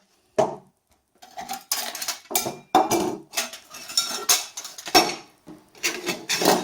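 Titanium cooking cup and lid handled with a gas canister, giving a run of close, scraping clinks and metallic rattles in short bursts separated by brief pauses.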